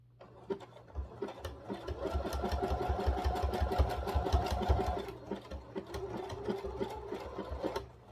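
Sewing machine stitching fabric pieces for flamingo gnomes, running in a steady close burst of rapid needle strokes, then slowing and pausing with short intermittent runs.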